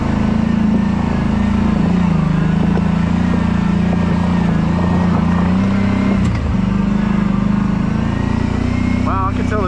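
A Kawasaki Brute Force 750 ATV on Elka shocks runs over a levee and up rocks, its engine droning loudly and steadily up close and briefly rising near the end, with a rider talking over it.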